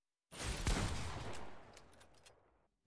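A burst of gunfire from the video game Fortnite, a loud cluster of shots at the start that fades into a rattling tail, with no voices.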